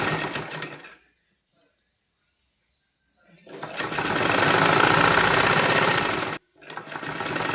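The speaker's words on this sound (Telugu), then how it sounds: "మనం బ్లౌజ్ స్టిచ్చింగ్ చేద్దాం" A sewing machine stitches a blouse nearby, first in short stop-start bursts and then in a long, steady whirring run that cuts off and picks up again; no talking over it.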